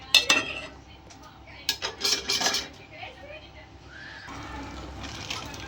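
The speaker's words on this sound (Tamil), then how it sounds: "முருங்கைக்காய் சேர்த்து கொஞ்சம் கிளறி விடுவோம்" A spoon stirs drumstick pieces through tomato in a metal cooking pot, making a few sharp clinks and scrapes early on. A quieter wet shuffling follows, and a faint voice sits in the background.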